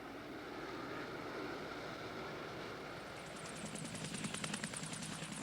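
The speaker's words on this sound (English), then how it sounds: "A helicopter from the cruiser Leningrad teases the American admiral, who's sizing them up at unusually close quarters" Helicopter from the Soviet cruiser Leningrad flying over the open sea, a steady distant rotor and engine drone that thickens into a louder, pulsing chop toward the end, with wind and sea noise underneath.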